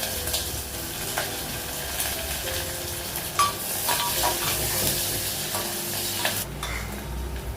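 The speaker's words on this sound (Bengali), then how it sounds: "পেঁয়াজটা লাল করে ভাজা হয়ে গেছে" Onions frying in a pan with garlic and green chillies, a continuous close sizzle broken by scraping stirs and clinks of a utensil against the pan, moderately quiet and with no talking.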